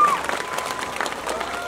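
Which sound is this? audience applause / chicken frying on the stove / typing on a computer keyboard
audience applause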